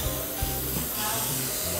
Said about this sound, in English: firstly we clean the material being inspected by spraying the cleaner.